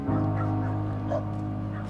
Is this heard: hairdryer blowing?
no